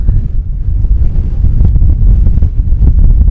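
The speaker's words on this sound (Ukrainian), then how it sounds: "Але все рівно дує ну, неймовірний вітер." Loud, roaring mountain wind buffets the microphone in continuous heavy gusts, rumbling and blustering without pause.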